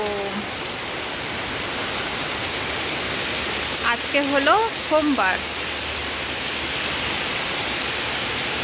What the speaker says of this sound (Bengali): বৃষ্টিটা শুধু দেখো